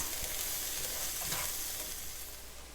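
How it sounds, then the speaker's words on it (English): Diced onion, celery and apple are sautéed in a pan for holiday stuffing, giving a soft, even, continuous sizzle with a brief faint stir and no talking. "I've diced our onion, celery, and apple, and I'm putting that in next. You want to saute all the ingredients"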